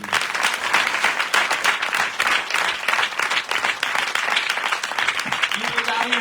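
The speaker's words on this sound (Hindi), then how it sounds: "एक बार अपने पास्टर के लिए जोरदार ताली बजाइए।" A Pentecostal church congregation at a wedding blessing ceremony claps loudly for its pastor, a thick, steady wave of applause from many hands, with a voice rising briefly near the end.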